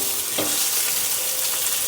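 Shrimp sizzle as they hit a pan with caramelized garlic, a steady loud hiss of frying with a brief clatter as they go in, no talking.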